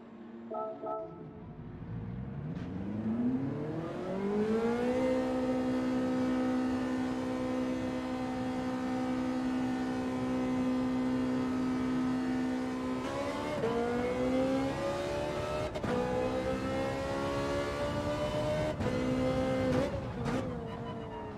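Ferrari race car engine in Gran Turismo 7, revving and climbing through the gears with a sustained high whine, brief dips at shifts, loud and close with no talk.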